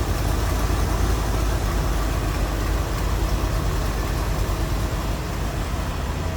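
A 1963 Chevrolet Corvette split-window coupe with a 327 V8 idles close by, a steady, dense low rumble that holds even throughout, with no talking over it.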